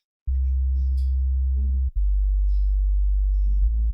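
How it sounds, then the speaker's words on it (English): A sub-bass sine wave in FL Studio, pitched down a couple of octaves, plays as two long, smooth, loud low notes separated by a brief gap, with faint higher musical fragments above. "For my bass, I just have a regular sine wave that I lowered a couple of octaves"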